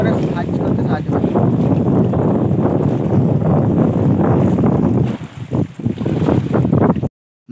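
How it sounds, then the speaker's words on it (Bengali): Strong wind roars steadily across the microphone on a Sundarbans river while waves slap against a fishing boat, loud and continuous for several seconds before cutting out briefly near the end. "নদীতে প্রচুর পরিমাণে বাতাস ও ঢেউ হচ্ছে"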